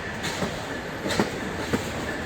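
A short cut of CSX freight cars rolls past nearby, a steady rumbling roar broken by a few rhythmic wheel clunks over rail joints.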